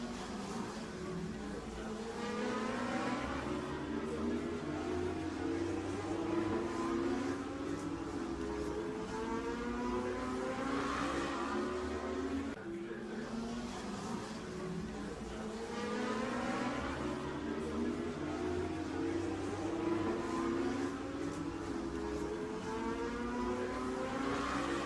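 Race cars accelerating during a women's cup motor race, a steady loud engine roar with rising revs sweeping up and down repeatedly as cars pass, continuous throughout.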